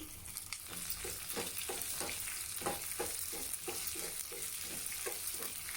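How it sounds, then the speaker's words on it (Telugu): Chopped onion and curry leaves hit hot oil with mustard seeds, giving a steady, close sizzle broken by rhythmic scrapes and stirring. "ఇలా కాస్త ఆవాలు చిటిపటిలాడిన తర్వాత కట్ చేసి పెట్టుకున్న ఎర్రగడ్డను ఇలా వేసేయండి తర్వాత కరేపాకు కూడా వేసేయండి"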